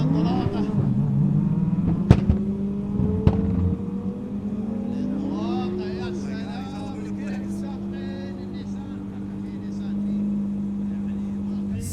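Powerful 2,500-horsepower sand buggies with manual transmissions race down a drag track on the Sweihan Mile near Abu Dhabi, a sustained engine drone with a rising pitch sweep and two sharp cracks early on, with people talking over it.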